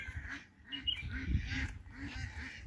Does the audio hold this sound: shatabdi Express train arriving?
no